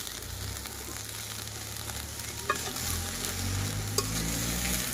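Tomato bharta with coriander leaves cooking in a pan, a steady low sizzle with stirring scrapes and a couple of sharp spoon knocks over a faint background hum.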